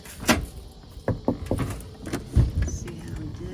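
Knocks on a house door and a brief doorbell tone during a doorbell drill for a young German Shepherd. Several sharp raps land in an uneven sequence, with a short chime near the end, close by and fairly loud.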